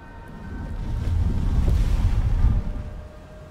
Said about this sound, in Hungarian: Vagy csak a szél fúj.